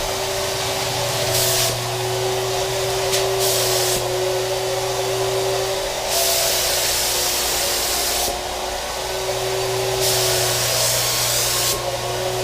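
A Fuji paint sprayer lays down a coat with a loud continuous hissing spray and a steady motor whine, the spray cutting in and out in several bursts across the stretch, with no talking.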